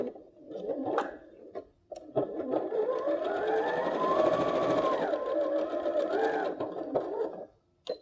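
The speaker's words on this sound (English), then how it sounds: "Sew them with a 5mm seam allowance." A sewing machine stitches quilt pieces for a rose quilt block, running in one continuous whirring burst of several seconds between short pauses, close and clear.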